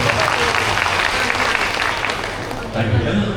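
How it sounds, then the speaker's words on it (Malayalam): Audience at a Malayalam religious talk applauds, a dense, loud sustained wash of many hands clapping that carries steadily for several seconds before easing slightly near the end, with voices mixed in. "നന്നായിട്ട് കൈയടിക്കോ"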